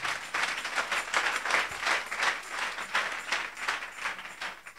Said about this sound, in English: we can clap a little better than that.